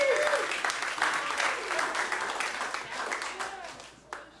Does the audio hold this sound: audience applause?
yes